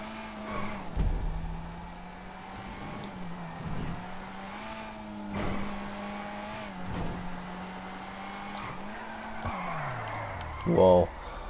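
Weeny Issi Classic car driving in Grand Theft Auto 5, engine note rising and dropping through gear changes with brief tire noise, someone talking over it.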